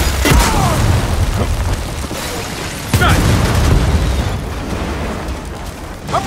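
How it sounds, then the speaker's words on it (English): Drop pods crashing down and exploding in Gears of War 4, a couple of heavy booming impacts a few seconds apart, loud and close over continuous rumbling combat noise. "Drop pods! Guys! Trackers! Incoming!"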